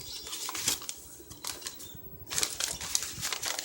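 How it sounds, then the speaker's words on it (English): Coffee-dyed paper envelopes rustle and crinkle up close, with crisp, irregular bursts of crackling handling sounds and short pauses between them, no voices. "And I love the way the paper sounds."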